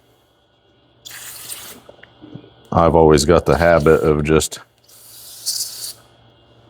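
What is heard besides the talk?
aerosol spray can spraying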